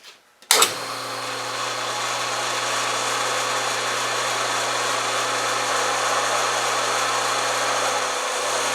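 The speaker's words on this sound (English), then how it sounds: "the boring bar will have to chew through that." Steady machining noise as a boring bar cuts metal on a machine: a continuous high-pitched metal-cutting whine and hiss with a low hum underneath, starting abruptly and holding constant throughout.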